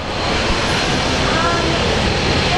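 A plane takes off from a runway at Brisbane Airport, giving a loud, continuous broadband engine roar that stays steady for the whole stretch with no pauses.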